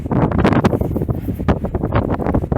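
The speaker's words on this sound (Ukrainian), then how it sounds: "Вітруган такий, що не можна двері відчинити" Strong wind buffets the microphone in rough, rumbling gusts, continuous and close throughout.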